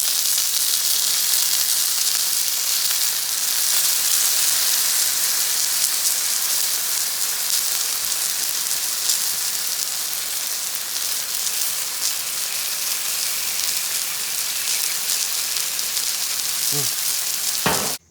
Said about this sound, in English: you see all those sugars when they hit that hot griddle. Start caramelizing.